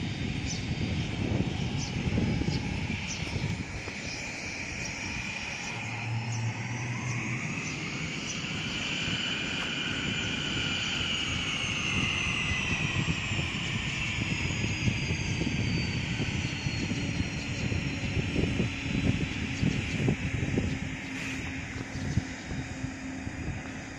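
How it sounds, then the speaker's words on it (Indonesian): A Cessna Citation V military jet roars loudly on landing, its engine whine sweeping and shifting in pitch over a continuous, heavy rumble that persists throughout. "Pesawat ini landing, terus refueling, kemudian lanjut lagi terbang."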